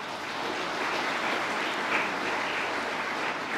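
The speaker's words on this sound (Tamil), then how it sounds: "ஸோ அதுக்கு ஒரு பலத்தை கைத்தட்டல்." College audience at a motivational speech clapping for their college, a steady, even wash of many hands applauding for a few seconds without pause.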